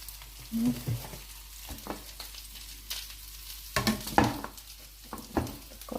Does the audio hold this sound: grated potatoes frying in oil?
yes